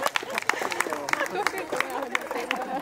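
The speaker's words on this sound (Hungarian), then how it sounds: "Nagy tapsot kérünk!" Wedding guests clapping at a reception in a rose garden restaurant after the bridal bouquet toss, a crowd's brisk, continuous applause mixed with lively chatter and voices.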